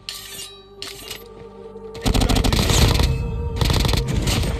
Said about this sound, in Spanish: escucho disparos adelante